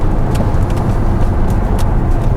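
Steady broadband road and tyre noise from a moving Hyundai Tucson Hybrid, loud and constant with a low rumble throughout and no speech.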